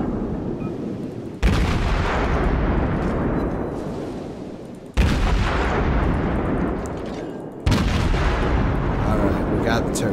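Heavy cruiser main-battery salvos in the World of Warships naval combat game, Des Moines Tier X: three loud, booming broadside blasts spaced a few seconds apart, each followed by a long rumbling decay with no talk over them.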